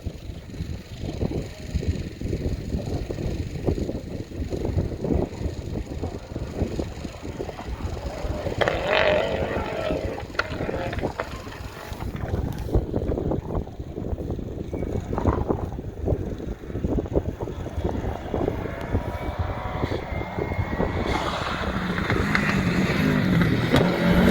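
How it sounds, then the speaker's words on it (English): Classic Possum Bourne Subaru rally car climbing a hill at Ben Nevis Station, its engine note rising and crackling with pops as it passes, mixed with wind buffeting and distant outdoor noise. "distinctive Subaru crackle up the hill. And just let you listen to that for a bit."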